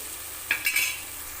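Two tomatoes sautéing in a pan for a soya and green pea rice, a soft low sizzle with a few brief stirring scrapes of a spoon against the pan.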